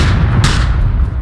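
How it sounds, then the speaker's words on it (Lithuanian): Gunfire in a team-based shooter video game forms a loud, dense, continuous rumble of shots with a brighter crack partway through, heard close and alone without talk. "Ganėtinai netoli šaudo."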